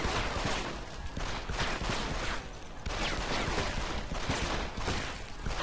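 Rapid gunfire from a shooter video game, Deus Ex Human Revolution, dense and continuous with overlapping shots and bursts filling the stretch at steady loudness, with no talk.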